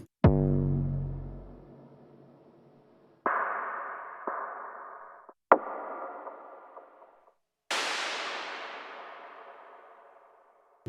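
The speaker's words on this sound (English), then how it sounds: "Let's listen to some of the one-shots as well." Percussion one-shots from the Delicata sample library play one after another: a deep boomy hit, two ringing metallic tones with long decays, and a bright crashing burst that fades out slowly, each separated by brief pauses.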